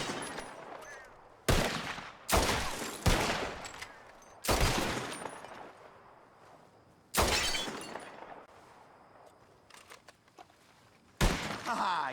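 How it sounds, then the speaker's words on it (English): Gunfire in Red Dead Redemption 2 during a bottle-shooting contest: six loud, sharp shots at irregular intervals over a quiet ambient game background. "Whoever shoots more of these bottles wins."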